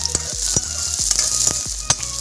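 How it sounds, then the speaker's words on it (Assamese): Onions fry in refined oil in a pan with a steady bright sizzle, broken by sharp clinks and scrapes of a spoon against the pan every half second or so, close and alone. "এতিয়া এইখিনি পিঁয়াজখিনি অলপ ৰঙচুৱা পৰালৈকে ভাজি ল'ম"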